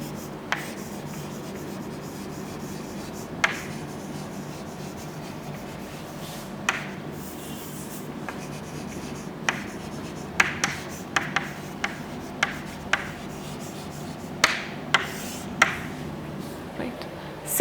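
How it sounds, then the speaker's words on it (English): Handwriting with a pen on paper during a biology lesson, soft scratching strokes and sharp taps scattered irregularly under quiet room noise. "let's write about it."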